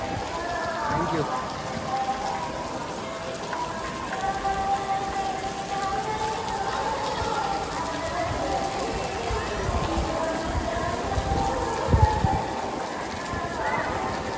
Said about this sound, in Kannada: ತಿರುಮಲಹಳ್ಳಿ ಇಷ್ಟೊಂದು ಮಳೆ ಫಸ್ಟ್ ಟೈಮ್ ನಾನು ನೋಡ್ತಾ ಇರೋದು